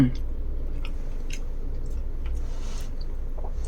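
Close-up chewing of fish at lunch, soft wet mouth sounds repeating steadily through the clip over a low background murmur.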